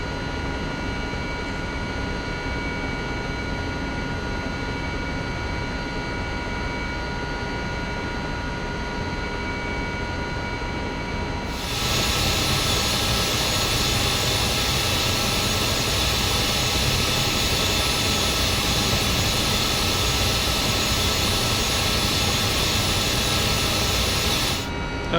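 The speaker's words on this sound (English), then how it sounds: "This is the beauty of flying helicopters." Simulated Mil Mi-2 Hoplite helicopter engine in a flight simulator, a steady droning turbine whine with rotor hum that jumps abruptly louder and brighter about halfway through, then holds constant to the end.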